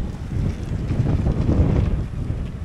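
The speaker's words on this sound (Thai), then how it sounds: "นี่ฮะมีลมแรงพอสมควรนะ" Strong wind buffets the microphone at an outdoor political rally at a temple in Lam Luk Ka, Pathum Thani, a steady low rumbling roar with no voices heard.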